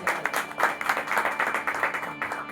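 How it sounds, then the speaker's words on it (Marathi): Audience at a devotional bhajan gathering breaking into loud applause for a singer, a strong continuous roar of clapping with rhythmic surges, close and full. "एकदा जोरदार टाळ्या झाल्या पाहिजेत"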